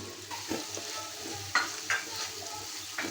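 Small fish cooking with salt, turmeric, red chili and green chilies in a pan, a steady close sizzle and fry with a low hum underneath and a few soft stirring scrapes throughout.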